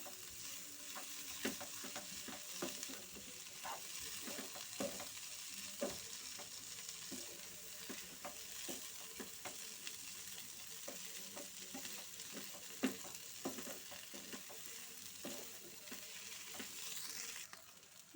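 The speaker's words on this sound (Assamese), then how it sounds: "এইখিনি অকণমান শুকানকৈ ভাজি ল'ম।" Boiled potatoes frying dry in a pan, a steady soft sizzle punctuated by repeated scraping and stirring strokes of a spatula, close and alone without speech.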